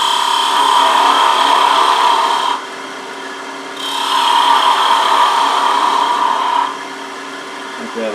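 A wood lathe turns a wooden cross while a skew chisel cuts it down, making two sustained scraping, whirring passes of several seconds each, separated by a quieter stretch of the spinning lathe.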